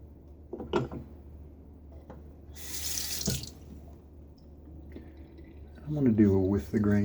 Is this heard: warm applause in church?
no